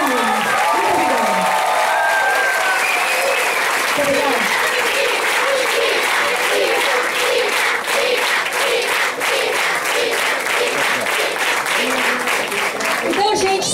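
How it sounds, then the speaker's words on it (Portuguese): Audience applause rises to a steady, dense roar of clapping and lasts over ten seconds, with a voice and some singing-like tones heard over it at the start. "Uma salva de palmas pra mim."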